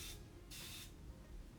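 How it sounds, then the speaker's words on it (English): Two short hissing bursts of face spray misted onto skin, the second longer, close and fairly quiet with no talking. "why am I spraying on my face again?"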